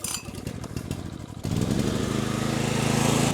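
An Efurden 4400 watt inverter generator, choke on, is cranked with a few rough pulls before the engine catches at about a second and a half and settles into a steady, close, buzzing run.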